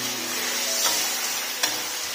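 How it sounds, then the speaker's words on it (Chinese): Duck meat sizzling hard as it is stir-fried in a wok, a loud continuous frying hiss broken by a couple of sharp scraping stirs, close up with no voices. "给它继续翻炒一下"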